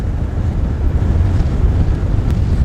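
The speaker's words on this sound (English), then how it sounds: "There's the wind." Steady, heavy wind buffeting the microphone outdoors on a Colorado mountain trail, a loud continuous low rumble that masks everything else, with no speech.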